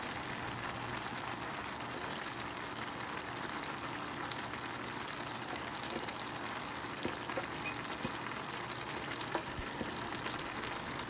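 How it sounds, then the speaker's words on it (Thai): Dandelion leaf curry with kaffir lime leaves and dandelion flowers simmers in a pot, a steady soft bubbling and sizzling hiss that carries evenly throughout with a few tiny pops, no voices. "เราไปต้มไปอีกสักประมาณ สามนาทีนะคะ"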